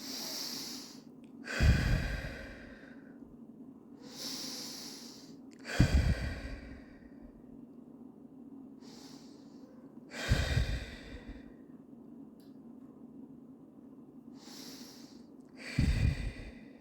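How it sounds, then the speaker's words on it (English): Slow, deep breaths during a guided relaxation exercise, each long inhale and exhale clearly audible and close, repeating about four times at an unhurried, even pace with quiet pauses between. "breathing in and breathing out"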